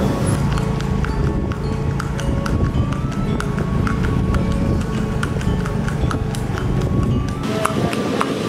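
A horse moves along with steady, rhythmic clip-clop hoofbeats, close and loud, repeating evenly over a dense background rumble.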